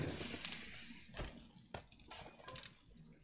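Steady bubbling water over a campfire in the survival game 7 Days To Die, a continuous watery hiss with a few louder splashy bursts, close and fairly quiet, with no voices.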